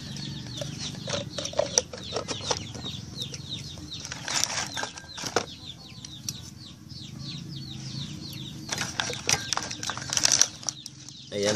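Chickens gather around a feeder made from a recycled plastic container, with scattered clucks and fluttering wing flaps over steady outdoor background noise.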